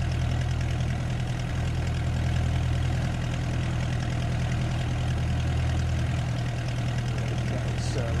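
De Havilland Chipmunk engine idling with the throttle closed during a landing approach, a steady low drone heard from the cockpit, loud and continuous, with speech over it.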